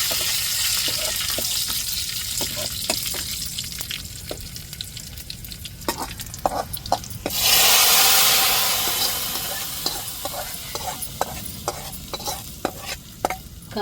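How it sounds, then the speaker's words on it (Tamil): Shallots, fenugreek and curry leaves crackle in hot oil as a steady sizzle with sharp spitting pops throughout, and a loud hissing surge partway through. "இப்போ தாளித்து ஊற்றிக்கிடுவோம். இப்போ கருவேப்பிலை சேர்த்துக்கிறோம்."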